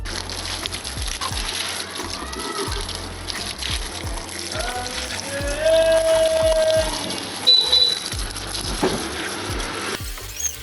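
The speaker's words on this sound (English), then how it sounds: "I have a normal pipe and normal stream of water, so I'm gonna work with it." A steady spray of water from a garden hose hisses and patters on a car engine bay, continuous and fairly close, with a few brief tonal squeaks partway through.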